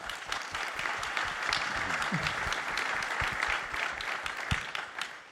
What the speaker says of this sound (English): So clap.